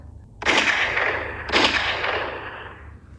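Two loud gunshots a second apart, each a sharp crack followed by a long, rolling echo that fades slowly.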